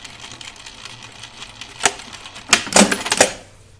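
A sewing machine stitches stretch fabric in short bursts, with a few soft mechanical rattles followed by louder rapid clattering runs near the end, fairly close and with no talk heard.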